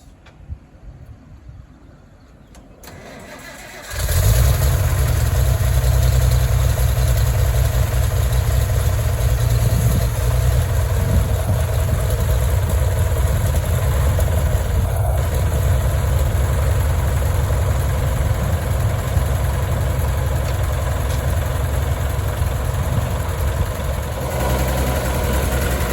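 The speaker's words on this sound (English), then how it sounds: "here she is running. If you just let it idle, it will slowly build up" A Farmall tractor engine, the 656 or H, catches after a few seconds of quiet and settles into a loud, steady low idle that runs on without a break.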